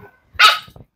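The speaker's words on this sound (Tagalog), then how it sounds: "Punong-puno ng aso." A single sharp, loud dog bark rings out close by in a house full of dogs at a breeder's, framed by brief soft rustles and a faint yip afterward.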